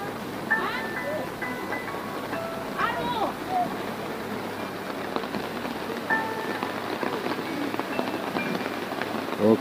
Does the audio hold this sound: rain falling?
yes